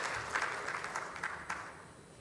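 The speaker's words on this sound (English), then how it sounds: "A round of applause for Valence." Faint, fairly brief clapping from a symposium audience after a speaker's talk, distant-sounding with a few sharper claps standing out.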